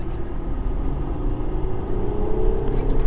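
Audi A6 3.0 accelerating on the road, heard from inside the cabin as a steady engine rumble and road noise that rises slightly in pitch, with a faint voice mixed in.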